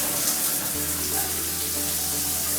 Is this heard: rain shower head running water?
yes